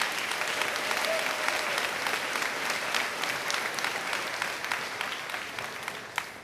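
A crowd at a middle school graduation claps steadily and continuously, a dense wash of applause that stays even throughout and tapers slightly at the end.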